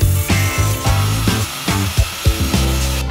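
Wooden boards are cut for the slats of a pull-out RV couch bed, with short repeated bursts of rough, rasping cutting close by, coming in uneven strokes with brief pauses between them and no voices.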